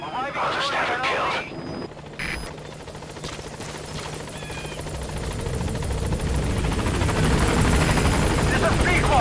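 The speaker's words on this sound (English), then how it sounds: "I'll send the extraction chopper." Extraction helicopter arriving in Metal Gear Solid V: The Phantom Pain, a steady rotor roar that builds and grows louder over the whole stretch while voices talk over it early on.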